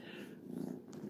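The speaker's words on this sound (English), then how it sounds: "If you hear the cat purring, sorry," A kitten purrs close by, a soft, low rumbling purr lasting about a second, faint and alone.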